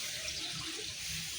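Water pours steadily into a pot of mango and potato curry, a close, even rush with no break over the whole short moment, ending on a sharp knock.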